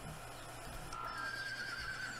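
A horse in the video game Star Stable whinnies with a high, drawn-out tonal neigh over quiet game ambience, faint and alone, with soft hoof clip-clop underneath.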